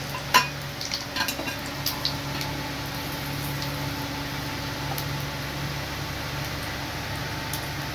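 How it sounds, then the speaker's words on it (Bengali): Onions fry in oil with bay leaf, cardamom, cinnamon and cloves for an egg korma, making a steady, moderate sizzle with a few light utensil taps early on and no talking. "তেলের মধ্যে আমি কিছুটা পেঁয়াজ ফ্রাই করে নিচ্ছি।"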